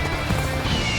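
Horse in Dynasty Warriors Origins, a short burst of galloping hoofbeats with a whinny, loud and close.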